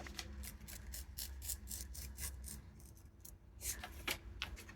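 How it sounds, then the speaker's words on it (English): A craft knife scrapes through paper along a crease in quick, repeated short strokes, close and quiet, with no talking. "use your craft knife like this if you wish"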